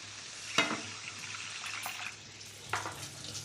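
Water is poured into a pan of frying masala for a Bengali pabda fish curry, giving two short splashing bursts that quickly settle into a soft bubbling sizzle, close and without any talking.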